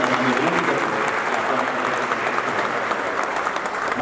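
An indoor audience claps loudly for a police commissioner, dense sustained applause that continues at a steady level throughout.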